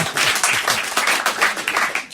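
Studio audience applause on a French talk show, a burst of fairly close clapping with uneven, pulsing intensity, with a little talk underneath.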